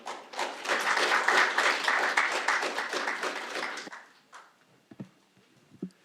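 An audience at a formal gathering gives a round of applause as a floor leader comes up to speak, dense clapping for about four seconds that stops abruptly, followed by a few faint knocks and shuffles.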